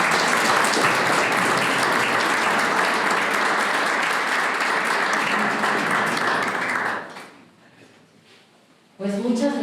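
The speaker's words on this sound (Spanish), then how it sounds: "Un aplauso para ella" Sustained audience applause at a lecture event in Coyoacán, a dense steady wash of clapping for about seven seconds that fades out, followed by a short lull before a voice starts speaking.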